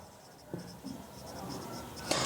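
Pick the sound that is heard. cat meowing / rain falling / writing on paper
writing on paper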